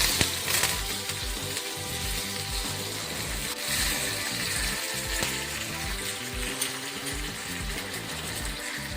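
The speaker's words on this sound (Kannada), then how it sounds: "ಬೆಳ್ಳುಳ್ಳಿ ರೆಡ್ ಕಲರ್ ಆಗೋ ತನಕ ಫ್ರೈ ಮಾಡಬೇಕು." Garlic, mustard seeds and curry leaves frying in hot oil for a tempering, a loud continuous sizzle with crackles and pops from the seeds running steadily throughout, no voices over it.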